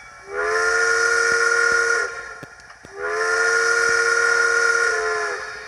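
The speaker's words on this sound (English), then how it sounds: "Of course, our whistle." Two sustained blasts of a steam whistle from a DCC sound decoder in a model train, each about two seconds long, loud and clear with a short gap between them and no talking.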